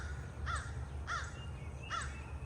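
Several crows cawing outdoors in the morning, three hoarse calls spaced about three-quarters of a second apart, fairly distant over a low background hum.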